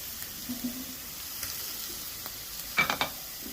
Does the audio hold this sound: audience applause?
no